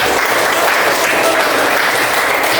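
Loud, dense clapping from a class rewarding a correct quiz answer, a continuous burst of applause close to the microphone with no break.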